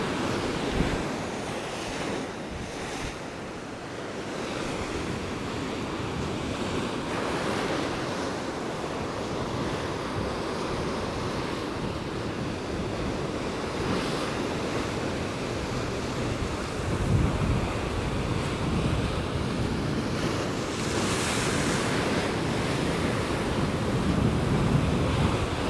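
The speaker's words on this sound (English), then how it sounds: "This is where the waves hit pretty hard right here." Ocean surf rolling in and crashing against the black granite rocks of Peggy's Cove, a steady loud roar with wind buffeting the microphone and swells breaking in repeated surges.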